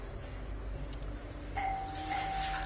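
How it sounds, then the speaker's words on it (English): A doorbell chimes in played-back footage from a scary clip, a thin sustained ring that enters partway through over a low, noisy background. "Doorbell."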